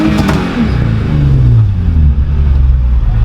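A Nissan 350Z-family car's engine revs hard during a launch control attempt, a loud, close mid-range roar with a rising and falling pitch, heard alone without talk.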